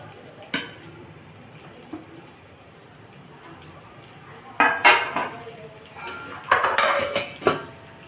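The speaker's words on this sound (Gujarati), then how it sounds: "સરસ એવા મિક્સ કરી લેશું વધારમાં" Gujarati patra rolls are stirred into a tempering of sesame seeds and curry leaves in a metal pan, with sparse spoon clanks early, then clustered scraping clatters and clinks close by, and no talking.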